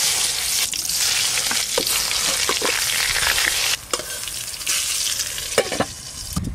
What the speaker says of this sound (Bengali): বেগুনটা ভাজা হতে থাক